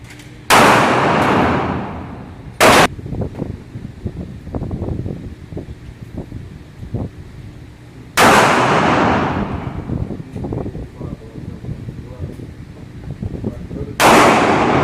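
Four loud rifle shots at an outdoor gun range, spaced several seconds apart, each a sharp crack with a long rolling echo, over wind noise on the microphone.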